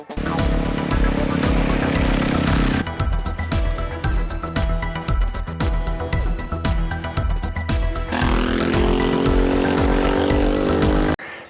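A motorcycle engine runs loud and close throughout, holding a steady drone with a rising, revving pitch near the start and again toward the end; no voices.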